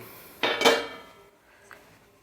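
A flatbread or similar food is flipped in a pan during home cooking, with two loud metallic scrapes and clanks of a spatula against the pan followed by fainter taps.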